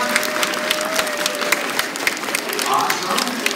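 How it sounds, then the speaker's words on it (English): Parents in the audience applaud at a grade 3 and 4 school concert, a dense patter of clapping from a crowd, with talk mixed in. "You better give them some applause."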